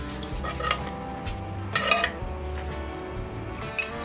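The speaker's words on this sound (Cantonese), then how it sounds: "攪一攪勻佢" A utensil stirring pork chop meat juices into an onion sauce in a pan, giving a few scraping clinks and soft stirring swishes over a faint sizzle.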